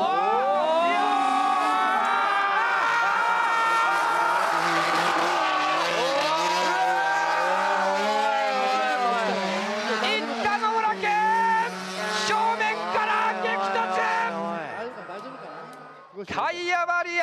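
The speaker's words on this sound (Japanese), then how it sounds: "タイヤバリア、まともにその速度減速なく飛び込んでいきました。" A Nissan Skyline drift car at a D1GP event at Ebisu howls and squeals its tires at full speed, then slams into a tire barrier with an abrupt crunching impact near the end, a commentator talking excitedly over the engine noise.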